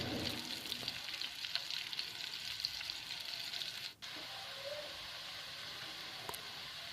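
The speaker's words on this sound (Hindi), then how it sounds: "उसमें 2 अदद चॉप्ड की हुई प्याज शामिल कर लें।" Chopped onions fry in a pan with a steady, even sizzle that stays close and continuous, broken by one brief dip in the hiss near the middle.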